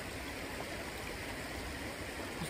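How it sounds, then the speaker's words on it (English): A mountain stream at a trail water crossing on the John Muir Trail rushes steadily, a constant broadband wash of flowing water close by with no pauses. "All right, first water crossing coming up here."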